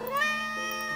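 A cat meows in the video game Let the Cat In, one long drawn-out rising then steady meow, loud and close, heard alone without talk.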